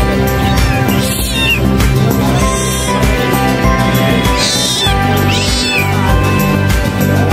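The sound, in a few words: cat meowing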